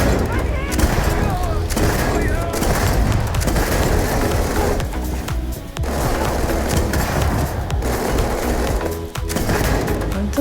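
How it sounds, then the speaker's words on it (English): The Negotiator gun in the game Starfield emptying a full magazine: continuous, loud, booming fire with dense overlapping reports and debris, sustained for about ten seconds with only brief dips. "I want to try and empty it and see how long it takes to reload it."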